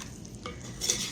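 A spoon stirs onion pie filling in a skillet, a brief soft scrape and sizzle of food being mixed, close and quiet.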